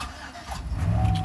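A car fitted with an Intoxalock ignition interlock cranks and starts, a close, loud engine rumble that builds and steadies toward the end, with no voices.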